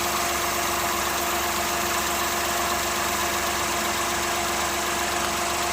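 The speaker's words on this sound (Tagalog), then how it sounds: "Dahan-dahan lang para hindi mamatay yung makina" Car engine idling steadily at raised RPM while a vacuum leak and air/fuel ratio are checked, a close, even hum with slight vibration and no talking.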